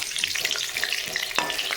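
Parboiled, colored potato pieces fry in hot oil in a pan for Bengali biryani, giving a steady close sizzle with soft stirring scrapes and one sharper clink near the end.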